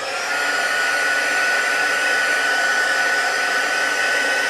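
A heat embossing tool blows hot air onto embossing powder on a handmade card, giving a loud, continuous, even whirring hiss close by with a faint high whine.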